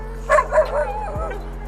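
A couple of quick, high yips from a Belgian Malinois up close, followed by a short whining tail, over a steady low hum.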